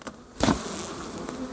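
A swarm of bees shaken into a hive at Crosne: a sudden soft thump and rush as the cluster drops, followed by a steady close buzzing of many bees.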